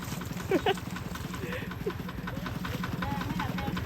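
A farm tractor engine chugs steadily at a low idle during flooding, its rhythmic knocking pulse running throughout while people talk and an animal bleats briefly nearby.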